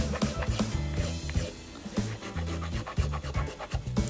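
Files rasping over a hard fishing lure being repaired, quick repeated back-and-forth strokes with a gritty scratching texture, close and fairly loud with no talk.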